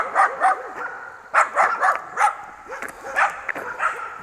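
Two dogs bark repeatedly on a rural road, loud clusters of barks and yips coming in bursts close by.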